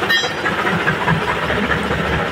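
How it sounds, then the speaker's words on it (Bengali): An old tractor's hydraulic lift is raised by its lever, giving a steady mechanical rumble and hiss from the running machine, close and continuous throughout. "তো আমি কিন্তু একটু লিভারটা বাড়াই দিলাম, দেখি হাইড্রোলিক, এই দেখেন হাইড্রোলিক"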